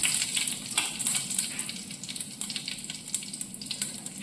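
Mustard seeds and cut dried red chillies sizzle and crackle in hot oil for a chicken thoran, with dense, steady frying and sharp popping bursts throughout, close and alone without talk.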